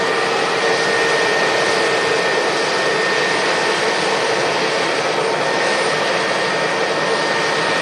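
Boeing 757-300 jet at Manchester Airport giving off a steady, loud, broadband engine roar that holds even and unbroken throughout, with no voices.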